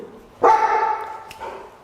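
Dogs barking outside: one sharp bark swells into a drawn-out, wavering yowl, then a second shorter bark follows, fairly close and loud, with no talk.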